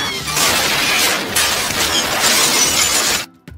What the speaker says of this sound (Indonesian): mobil broker terbalik.